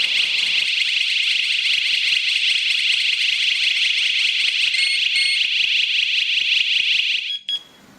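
A Chuango WS105 strobe siren alarm, triggered through an A9 alarm system's contact sensor, blares a loud, continuous high-pitched electronic tone for about seven seconds, then cuts off with a couple of brief chirps.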